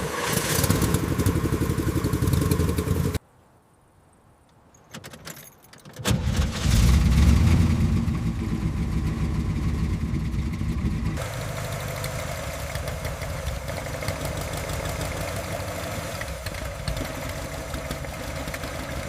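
A restored 1927 Dodge Doodle Bug engine runs loud and close with a rough, steady chugging, cuts out briefly to near silence, then roars back and settles into a sustained drone as the vehicle pulls away.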